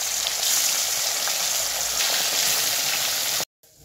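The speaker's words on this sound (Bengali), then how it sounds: "মাছটা ভেজে দিই।" Fessa fish frying in oil in a wok gives a steady, close hiss and crackle that cuts off abruptly just before the end, with no speech.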